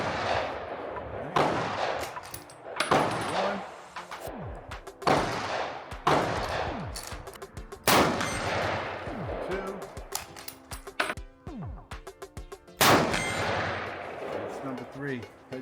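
A shotgun fires at targets 100 yards away on an outdoor shooting range, with about eight loud, sharp blasts spaced a second or two apart, each trailing a rolling echo. Brief talk comes between some of the shots.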